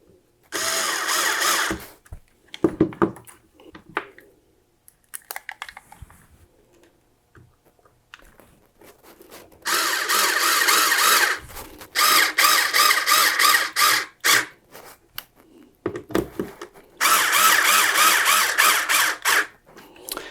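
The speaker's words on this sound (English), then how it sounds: "There's 2 small brass colored screws that I'm going to put in." A power screwdriver drives two small brass screws into a Roland keyboard board, with several whirring, ratcheting bursts of a few seconds each separated by quiet pauses and faint handling clicks.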